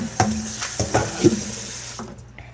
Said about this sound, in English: I'm going to rinse off this lid here